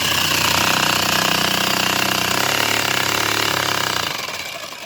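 Homemade soil sifter trommel driven by a jigsaw, running loud and harsh with a fast rattling buzz for several seconds before it winds down, no voices.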